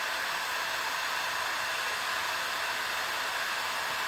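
A heat tool blows with a steady, even hiss of hot air while softening quick casting molds, a constant hair-dryer-like rush without breaks for the whole stretch.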